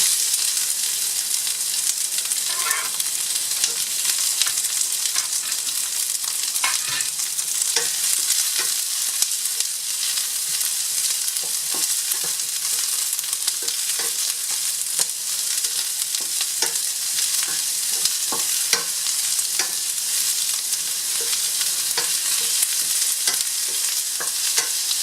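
Onion frying in a hot pan for a bean sprout and shrimp dish, a constant bright sizzle with intermittent scraping clicks of stirring, close and alone for the full length.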